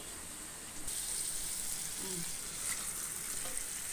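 Chopped potatoes dropped into hot spiced oil for a dried-fish potato fry, the sizzle jumping up loudly about a second in and holding as a steady crackling fry, with no talk.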